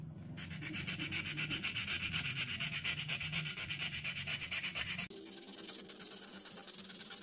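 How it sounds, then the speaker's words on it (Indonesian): Steady rhythmic scraping of sandpaper rubbing on iron, close up, with a brief pause and a shift to a harsher, higher rasp. "kita amplas besinya ya sampai bersih"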